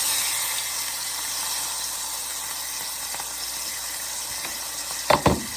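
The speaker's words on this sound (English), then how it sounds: "So I'm just going to sear it on all sides" Bacon-wrapped filet mignon searing in hot bacon grease in a pan, a steady hiss of sizzling fat with a few sharp crackles and pops near the end.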